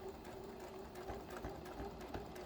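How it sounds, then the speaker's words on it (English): A sewing machine back stitches fabric at close range, whirring steadily, its needle rattling in a fast even rhythm without pause. "Now I'm back stitching."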